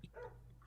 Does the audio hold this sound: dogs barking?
yes